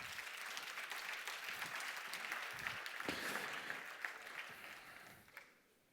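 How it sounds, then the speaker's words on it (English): An audience at a VR conference in Québec claps together in dense, steady applause for several seconds, fading out at the end, heard from within the room. "A round of applause"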